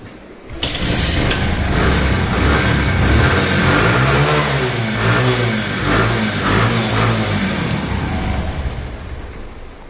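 A Bajaj CT 100 motorcycle engine kicks into life, then revs loudly and repeatedly, the throttle rising and falling close by before easing toward a steady run.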